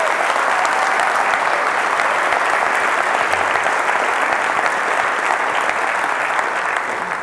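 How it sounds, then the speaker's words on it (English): A large audience applauds steadily, with dense continuous clapping that holds the same level throughout, and no one speaks. "let's just give Andy a round of applause for putting together just a remarkable game"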